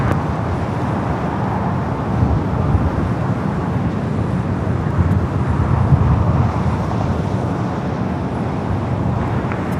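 An airliner rolling for takeoff on runway 25 Right at Los Angeles International Airport, a loud continuous broadband engine roar that swells slightly mid-way and holds steady, no talk.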